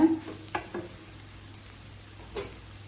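Veg kothu chapathi is stirred and mixed in a pan, giving faint scrapes and a few soft knocks over a low background sizzle.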